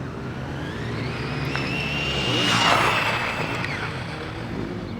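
Rlaarlo AM-X12 RC car blasting past at top speed outdoors, a high revving motor whine rising and peaking mid-pass over steady wind and tire noise, then falling away.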